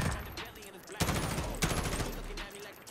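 Call of Duty Modern Warfare gunfire crackles in uneven bursts, with two sharp, loud shots standing out over a busy background of more distant firing.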